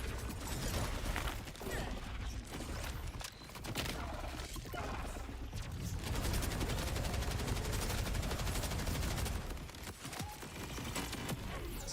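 Gunfire in the video game Borderlands 4 during a raid boss fight, with a sniper shot among dense, continuous shooting, explosions and mechanical clatter that fill the whole stretch at high volume.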